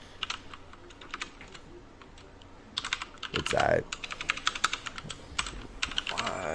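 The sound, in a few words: typing on a loud computer keyboard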